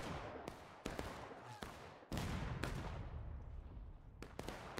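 Sustained musket fire rolls over a War of Rights battle on the Hagerstown Turnpike map, with sharp shots going off at irregular intervals, some close and loud, over a dense, rumbling backdrop of distant gunfire.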